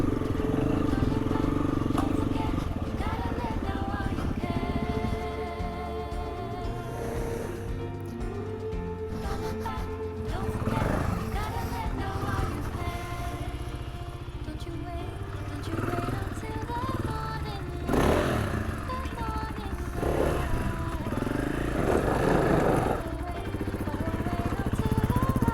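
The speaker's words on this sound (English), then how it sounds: "Chose to ride a motocross bike, didn't he?" A motocross bike ridden off-road on a slippery trail, its engine droning steadily and rising and falling with throttle changes, close and continuous.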